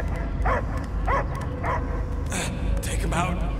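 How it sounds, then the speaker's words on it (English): A dog barks and yips in Guardians of the Galaxy, several short barks spread over a few seconds, mixed with game ambience and some talking. "I hear only barking"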